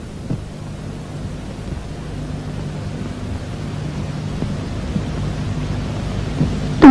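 Storm sound effect in a 1960 Hindi film: a steady low rumbling roar of wind and thunder with rain-like hiss, fairly loud and continuous, swelling slightly toward the end.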